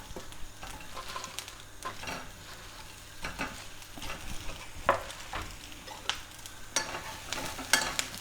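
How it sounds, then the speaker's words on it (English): Prawns fry in a pan with spring onions and chilli, a soft steady sizzle broken by repeated stirring and tossing scrapes, quiet and close with no talk. "let's put the prawns in."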